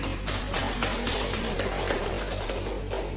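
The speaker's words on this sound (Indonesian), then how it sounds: "Aplaus untuk kelompok 2" A classroom of students applauds a presenting student group, a dense, continuous patter of many hands clapping at steady loudness from start to finish.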